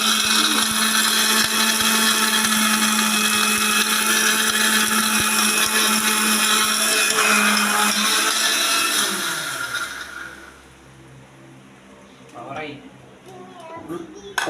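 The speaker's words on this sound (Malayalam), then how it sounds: "നിങ്ങൾ സൗണ്ട് കേൾക്കുമ്പോൾ മിക്സിൻ്റെ സൗണ്ട് കേൾക്കുമ്പോൾ" A kitchen mixer grinder whirs loudly and steadily for about ten seconds while grinding ingredients for gulab jamun, then winds down and stops, leaving quiet clatter and brief talking.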